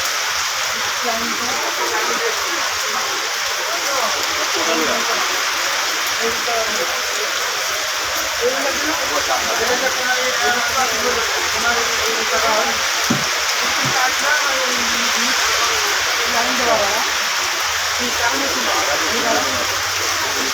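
Steady, dense hiss of heavy rain pouring down at the Gabtoli cattle market in Dhaka, across the whole stretch, with a few faint voices and thumps underneath.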